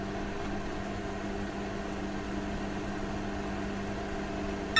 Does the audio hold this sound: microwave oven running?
yes